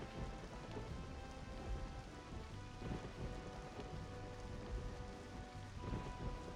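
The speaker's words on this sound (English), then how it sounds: "The rain's coming down so hard I was beginning to worry." Heavy rain pours down steadily in The Legend of Zelda Four Swords Adventures game, a dense continuous hiss with faint rumbles underneath, alone without speech.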